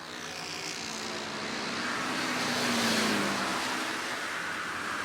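Flat track motorcycles racing in an expert twins main event on the Indy Mile, their engines blending into a steady, loud roar from a distance that swells briefly as the pack passes, then eases.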